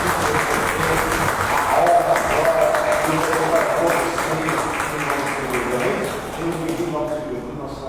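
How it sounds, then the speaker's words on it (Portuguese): A church congregation applauds together during a worship service, a dense, steady wash of clapping that fills the room throughout while voices carry underneath. "vamos dar aquela linda salva de palmas de Deus"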